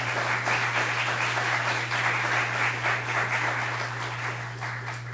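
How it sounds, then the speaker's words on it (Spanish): Audience applause at a Spanish-language forum on the 2012 United States elections: a dense, steady wash of many hands clapping, sustained for several seconds and easing slightly toward the end, over a faint low electrical hum. "Les pido un fuerte aplauso para ambos."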